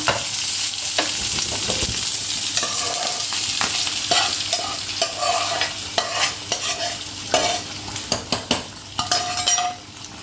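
A tempering sizzles in a pan of dry fish curry, frying steadily and close up while a metal spoon stirs and clinks against the pan, with the taps growing more frequent toward the end.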